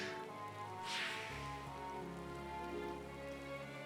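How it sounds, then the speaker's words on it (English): Rain pattering in the Final Fantasy XIV Endwalker video game, a soft continuous hiss of drops, with a brief brighter swell early on and low game music underneath. "I feel like these scenes are being ruined by the rain."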